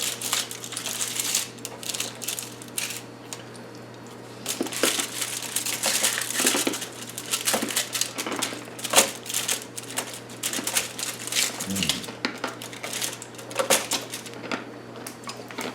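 Homemade toffee is broken into small pieces, giving sharp irregular cracks and brittle clicking snaps in scattered bursts, close and crisp, with quieter pauses between clusters.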